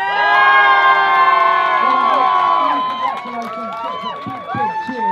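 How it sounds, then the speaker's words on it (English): Crowd of fans cheering and whooping at a race podium presentation at Oulton Park circuit, loud and close, with high excited voices and children shouting, fading into scattered shouts. "Big cheers as Max has climbed towards the top step of the podium, and I think you can hear the celebration of the crowd"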